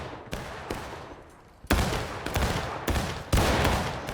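Musket volleys from the Civil War video game War of Rights crack out in loud, overlapping bursts, several ragged fusillades following one another over a few seconds.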